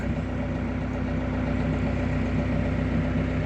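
A tractor engine idles at a steady low rumble before ploughing, close and constant with an even throb throughout and no voices.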